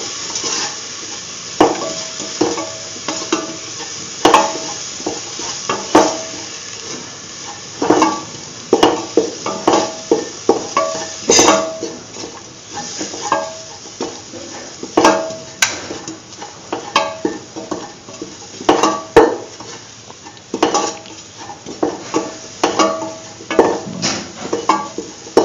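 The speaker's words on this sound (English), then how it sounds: "Mix all the ingredients thoroughly in the mixture." A spoon stirs and scrapes through a curried chickpea, yogurt and rice mixture in a pot. Frequent irregular clinks and scrapes ring out close and loud, with no talking.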